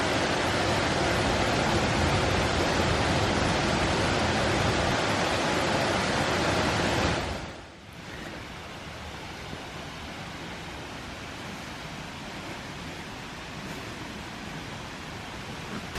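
Steady, dense rush of a twin waterfall splashing onto a tree trunk beside a mountain hiking trail near Madrid, loud and close for about seven seconds before dropping to a softer, more distant wash.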